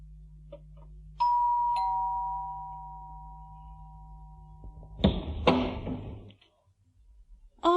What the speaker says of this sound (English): He went to Bill's flat and rang the doorbell.